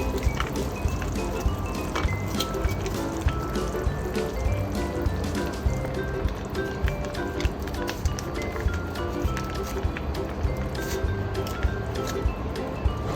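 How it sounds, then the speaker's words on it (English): Tomato sauce goes into a simmering pot of pork menudo, giving a steady wet bubbling and faint liquid trickle over a continuous low kitchen background. "I will start putting in the tomato sauce."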